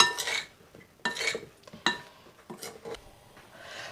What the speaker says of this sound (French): Et on va mélanger pour bien enrober nos aubergines.